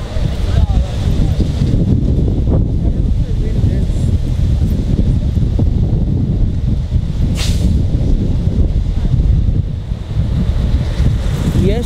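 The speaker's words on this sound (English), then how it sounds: "I was not expecting this wind, honestly." Strong wind buffets the microphone in Plaza de Catalunya, Barcelona, a steady loud roar of gusts that stays close and constant throughout, with no one speaking.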